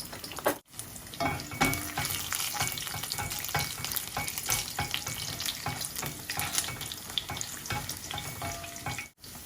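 Red chillies and coarsely chopped garlic fry in hot oil in a pan, a loud, continuous crackling sizzle with stirring scrapes, briefly cut off near the start and end.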